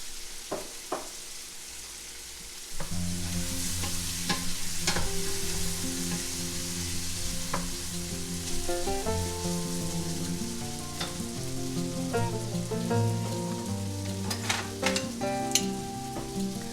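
Potatoes frying in a pan for Portuguese bacalhau à brás, a steady sizzle running throughout with scattered clicks and taps, while background music plays over it.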